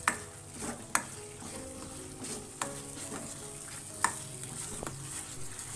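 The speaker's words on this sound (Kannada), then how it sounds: "ಅಷ್ಟು ಎಣ್ಣೆ ಬಿಡುವವರೆಗೂ ಚೆನ್ನಾಗಿ ಇದನ್ನು ಕೈ ಆಡಿಸ್ತಾ ಇರಬೇಕು" Ground masala for a mushroom gravy fries in oil with a soft, continuous sizzle. Sharp scraping clicks of stirring come every second or so. The sound is fairly quiet and there is no talk.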